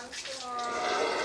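Water is poured and splashed over a sun bear during a wildlife rescue, a short continuous gush of running water heard close up.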